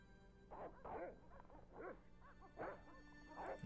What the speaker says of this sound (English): we need to alert the dogs first